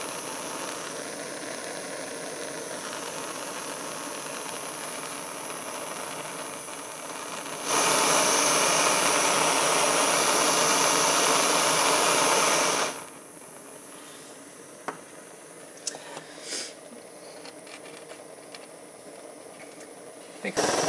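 Homemade butane stove burner, the Mockit rocket, roaring with a steady hiss that swells much louder for several seconds in the middle, then drops back to a quieter burn with small clicks and knocks.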